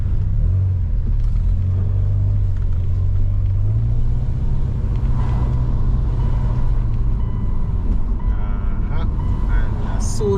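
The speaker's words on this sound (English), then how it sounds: "let's drive out now and see, do a test drive and see what's happening." A car with a rebuilt Subaru EJ25 engine on a test drive, a loud steady engine rumble and road noise from inside the cabin, with a faint beep near the end.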